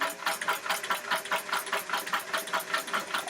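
A vintage sewing machine fitted with a buttonholer attachment runs at a moderate, steady pace, its needle stroke ticking in an even rapid rhythm, close and fairly loud with no voices.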